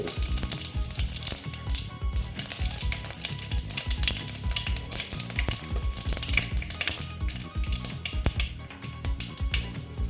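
Bay leaf, white cumin and dried red chillies sizzling in hot oil for cooking aloo cholar dal, a steady loud crackling fry with occasional utensil clinks, no voices.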